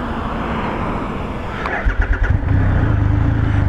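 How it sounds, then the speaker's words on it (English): Triumph Rocket 3 GT motorcycle engine cranking briefly over a steady background, then catching and settling into a deep, loud, pulsing idle close by. "You have to have the clutch engaged in order to start the bike, no matter what, even if you're in neutral."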